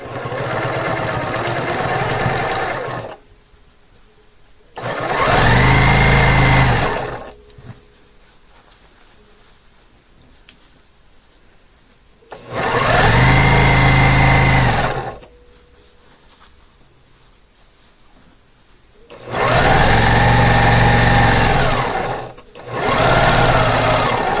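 A sewing machine stitching a quarter-inch seam on a fabric pillow runs in three loud, steady bursts of a few seconds each, separated by quiet pauses, with no voice over it.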